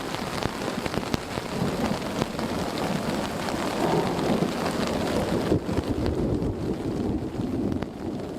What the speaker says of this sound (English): On top of the incredible booms of thunder, it's echoing off the cliffs a bit